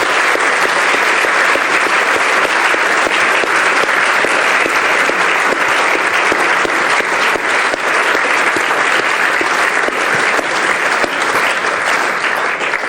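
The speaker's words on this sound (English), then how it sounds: "So can we have another big round of applause for Georgia?" A lecture audience gives a big, sustained round of applause for Georgia Gould at the 2023 Banister Fletcher Lecture, loud, dense clapping that holds steady for over twelve seconds with no voices on top.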